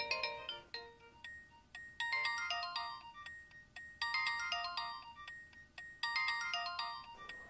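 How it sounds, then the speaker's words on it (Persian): A phone ringtone plays a repeating melodic phrase three times, loud and close, with short gaps between each ring and no talking. "با تلفنت جواب ده ممدو."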